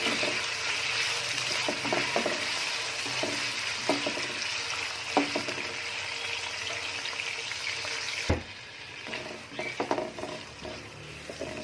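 Chicken pieces hitting a hot pan of frying chopped garlic, a dense steady sizzle with stirring clatter and scrapes, close and loud throughout, easing slightly near the end.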